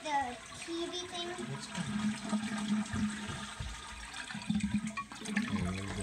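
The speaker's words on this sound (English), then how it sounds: "Flush? Can I flush? Flush." A constantly running toilet flushes with rushing, gurgling water, while someone talks over it in the foreground.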